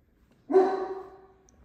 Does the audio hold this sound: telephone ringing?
no